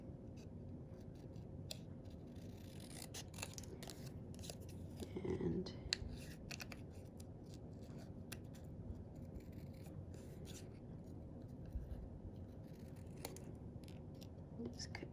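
Close, quiet snipping and rasping of scissors cutting through paper for a handmade gift card holder, a steady run of soft cuts and rustles with one brief word spoken.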